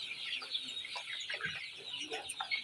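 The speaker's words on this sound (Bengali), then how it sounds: "আমি তোমাদের সামনে আরও একবার উপস্থাপন করলাম আমার স্বপ্ন মিক্স প্রজেক্টের সোনালী মুরগি, যার বয়স আজকে 32 দিন।" Several 32-day-old Sonali golden chickens cluck softly nearby in a flock, a scattered chatter of short calls that overlap.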